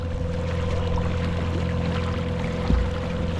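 A Haswing W40 electric kayak motor runs at full speed, giving a steady close hum with churning water and a brief low bump near the end.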